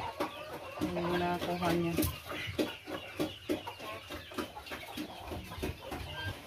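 Chickens cluck near a chicken coop, a few close bursts of hen calls over steady wind noise, with a person talking over them throughout.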